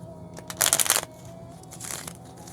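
Oracle cards being shuffled by hand: two short bursts of close, papery riffling and crinkling, the first louder than the second, in an otherwise quiet room.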